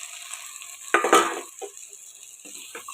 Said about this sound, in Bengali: এবার এই ডালটা আমি এতে দিয়ে দেবো পুরোটা